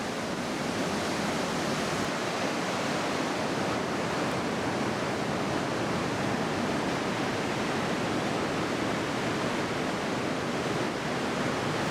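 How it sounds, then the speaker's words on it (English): A 285-foot waterfall in narrow Box Canyon, Colorado, roars with a steady, unbroken broadband rush of falling water, loud and close, with no voices over it. "The 285-foot falls make an impressive roar in the narrow canyon."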